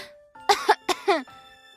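A short series of soft coughs and throat-clearing sounds, about three bursts within under two seconds, delivered by a voice imitating a flower coughing in an audiobook.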